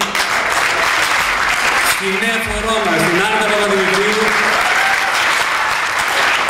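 Audience applause at an annual dance and pita-cutting celebration of a Greek association, a steady broad wash of clapping throughout while someone speaks over it on a microphone.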